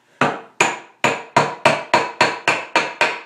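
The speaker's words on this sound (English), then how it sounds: "you take the end of the hammer and put it right on the edge" Hammer tapping metal bands down onto a handmade wooden bucket, ten sharp, evenly spaced knocks that ring briefly and come close and loud with no speech.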